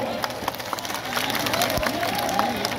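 A crowd at a village wrestling dangal in Bara Pind, Ropar, Punjab, claps and cheers steadily from a distance, a continuous patter of applause with a voice over it.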